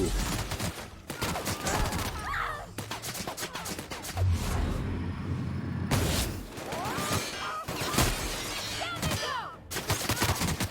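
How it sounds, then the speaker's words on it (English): Rapid bursts of gunfire from a triple fire bolter weapon in the video game The Outer Worlds, repeated volleys across the scene with game ambience and some voices in between. "This is a triple fire bolter."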